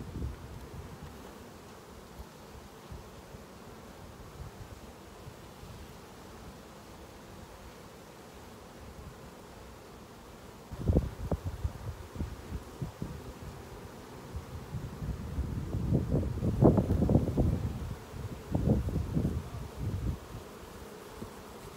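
Honeybees buzz steadily around an open hive during an inspection, a low hum that swells louder in the second half as more bees rise, with rustling bursts mixed in.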